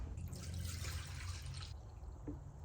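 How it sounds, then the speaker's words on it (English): Cleaning liquid pours steadily from a 5-litre container into an ultrasonic cleaner tank used for cleaning injectors, a close, bright gushing splash lasting about a second and a half before tapering to a few faint drips. "what we're going to do is fill this about 2/3 full of the liquid"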